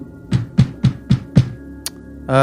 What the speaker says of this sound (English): I'll go ahead and knock.